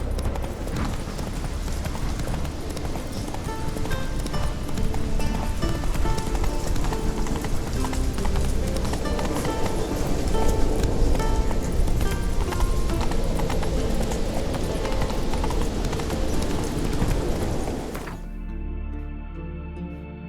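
Horse galloping in The Witcher III, a steady rapid clatter of hooves heard close throughout under game music and ambience, stopping sharply near the end.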